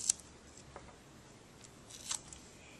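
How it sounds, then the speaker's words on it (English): A piece of medical tape is torn off during a central line dressing change, making a couple of brief, faint crisp rips close by in a quiet room. "I'll take a piece of tape"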